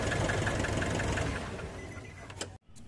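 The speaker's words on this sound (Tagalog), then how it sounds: "hayaan nyo lang siyang naka-steady yung minor hanggang sa makonsume nyo na yung 5 minutes na umaandar itong makina" A Nissan NV350 van engine idles steadily during an oil change and flush, a rhythmic ticking hum that fades slightly before a brief cut-off.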